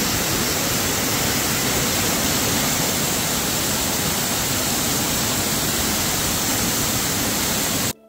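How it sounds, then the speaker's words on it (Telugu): A loud, steady roar of rushing water from a waterfall, dense and continuous, cutting off abruptly at the end. "అక్కడ లైవ్లో వాటర్ ఫాల్స్ సౌండ్ ఎంత పెద్దగా వస్తుందో వినండి"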